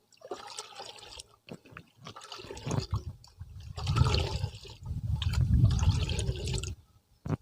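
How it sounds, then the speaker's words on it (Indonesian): Water sloshes and swirls as hydrogen peroxide is stirred into it for treating durian tree root fungus, giving uneven splashing surges close by that build and fade over a few seconds. "Kita campur ke air. Kita aduk. Nah, kita aduk seperti ini."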